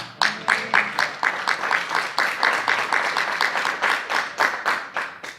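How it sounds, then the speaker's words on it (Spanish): Rhythmic clapping from a church congregation, fairly close, with some voices faintly beneath it. "Dale un aplauso a Jesús."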